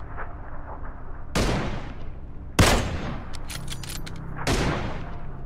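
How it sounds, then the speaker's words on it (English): Gunfire in the battle royale game PUBG: three sharp, loud shots at spaced intervals, each with a ringing tail, over a steady low ambient rumble, with a cluster of fainter clicks in between. "Oh, he's shooting me."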